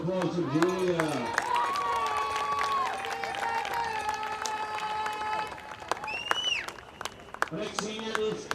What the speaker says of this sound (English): One more round of applause for Julia.